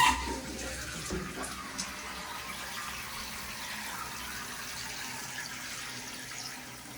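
A toilet tank refilling after a fill valve replacement: steady rushing water flows continuously, a filling hiss with faint gurgles, fairly close and unbroken from start to finish.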